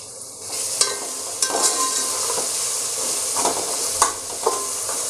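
Tomatoes and mutton fry in a pot over a low-medium flame, a steady close sizzle with occasional scrapes and clinks of a stirring spoon against the metal pan, no voices.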